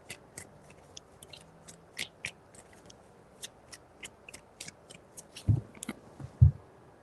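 Tarot cards shuffled by hand with a series of light crisp flicks and taps, followed by a couple of soft thuds, close and quiet with no talking.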